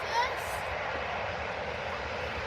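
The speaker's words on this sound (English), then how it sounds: "Lovely A350. Taxiing down the runway." Airbus A350 airliner taxiing at Manchester Airport, a steady broad engine roar that holds evenly throughout, with a brief higher whine near the start.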